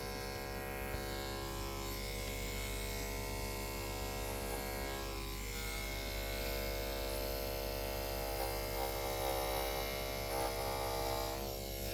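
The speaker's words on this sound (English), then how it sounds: "I am shaving right up into them" Electric clippers buzz steadily while trimming the fur of a doodle dog being groomed at home, a close, continuous hum with slight shifts in tone as the blades move through the coat.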